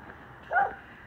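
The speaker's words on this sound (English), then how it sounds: "The dog is following me and barking at me." A dog in a small Spanish village gives a single short, muffled bark at a distance, faint and brief against quiet outdoor background.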